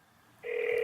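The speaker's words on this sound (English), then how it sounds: "I hear it ringing." An iPhone on Verizon rings through speakerphone in Palo Alto, a steady two-tone ring tone starting abruptly after brief quiet and holding loud and clear.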